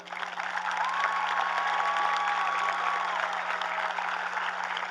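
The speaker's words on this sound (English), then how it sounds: "Please give this senior class a round of applause." An audience at the Sun Valley High School graduation ceremony applauds the senior class, steady and sustained clapping with a faint whistle-like tone over it and a low constant hum beneath.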